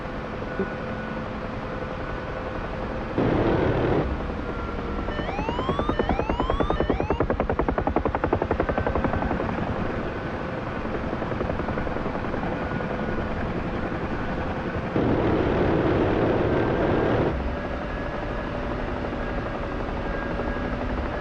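An aircraft in a DCS or War Thunder flight simulator, with a steady, loud rotor-like engine drone throughout and brief bursts of heavier roar and rapid mechanical rattling in between, no voices.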